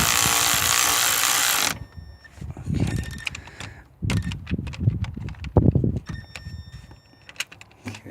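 A hand tool tightens the belt tensioner on a 2011 BMW 535i. A burst of loud noise opens the clip, followed by a series of close, irregular clicks, knocks and ratcheting taps with quiet gaps between them.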